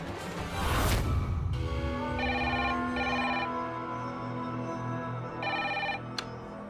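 A telephone rings in repeated electronic bursts after a short whoosh, moderately loud indoors, with pauses between the rings.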